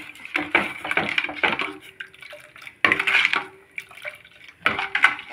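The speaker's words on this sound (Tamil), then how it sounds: "இது போல் கட்டி இல்லாமல் இந்த விஸ்க்கு வச்சு கலரி விடுறேன்" A metal whisk clatters in a pan as roasted urad dal flour is stirred into water, coming in several bursts of rapid scraping and clinking separated by short pauses, close and fairly loud with no speech.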